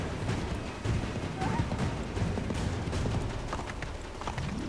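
Rhythmic clip-clop of horse hooves in Assassin's Creed 3, steady galloping thuds continuing under dense game ambience, moderately loud throughout.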